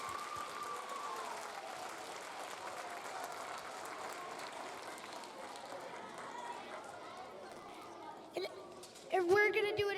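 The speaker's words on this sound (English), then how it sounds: "everybody give her a round of applause." Faint, distant applause at a K-6 elementary school assembly patters on steadily, then gives way near the end to louder children's voices and singing close by.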